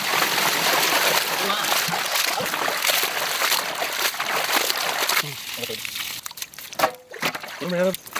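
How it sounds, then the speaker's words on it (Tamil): Splashing water poured out during village outdoor cooking amid busy, overlapping voices, with the liquid sound dropping off as the talk continues. "தண்ணி ஊத்து வா. ஊத்து."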